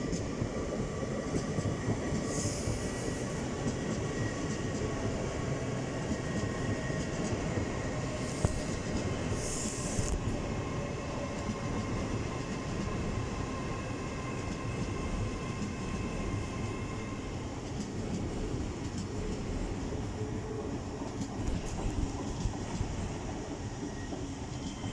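A Class 800 train, unit 800-106, on the King's Cross to Aberdeen service passes through Darlington station with a steady loud rumble and rolling wheel noise, plus some faint high squeals, sustained throughout with no talk.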